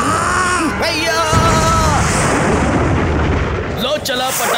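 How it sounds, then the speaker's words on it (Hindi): A cartoonish whistling firework rocket launch in an Oggy and the Cockroaches cartoon gives way to a loud, booming blast with crackling rumble that fills the rest, followed by another sharp pop. "लो चला पटाखा आसमान में और शुरू हो गई आतिशबाजी।"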